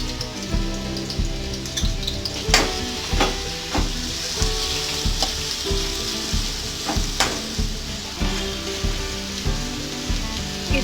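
Ingredients for murmura chivda fry in hot oil in a pan, a steady close sizzle with rhythmic stirring clicks, under continuous background music.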